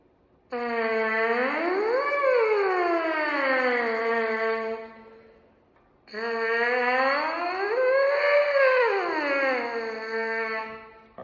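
Two long buzzing brass-mouthpiece sirens, each sliding up and back down in pitch, loud and close, separated by a short pause.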